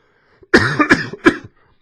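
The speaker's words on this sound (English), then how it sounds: "I'm going to cough here again" Three sharp, dry coughs in quick succession, close and loud, with a brief throat sound just before and silence around them.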